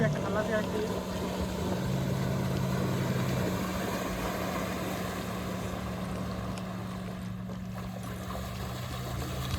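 A motor boat at Patratu Dam drones steadily close by, its low engine hum holding throughout with a faint wash of water and wind, and people talking faintly beneath it.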